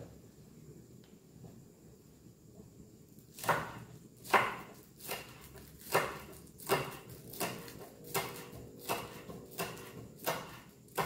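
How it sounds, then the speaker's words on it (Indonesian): Knife chopping spring onion into small pieces on a cutting board, a steady series of about a dozen crisp, evenly spaced thuds close by, starting after a quiet stretch. "Lalu saya potong kecil-kecil."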